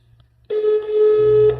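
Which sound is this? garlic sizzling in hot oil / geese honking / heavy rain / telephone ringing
telephone ringing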